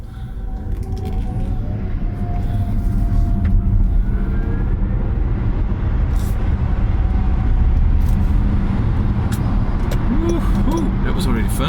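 Jaguar I-Pace electric car pulling away from a stop, a steady low road and motor hum with a faint rising whine, heard from inside the cabin under continuous voices talking.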